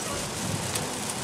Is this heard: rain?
yes